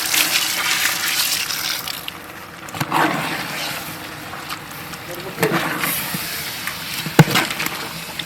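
Water poured into a cooking pot for quail gravy at an outdoor village kitchen: a loud, broad gushing splash that swells and fades in bursts over several seconds.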